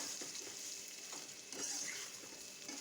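Mango pieces frying in a little oil over a medium flame for a sweet raw-mango pickle, giving a steady soft sizzle with faint stirring scrapes, close and alone.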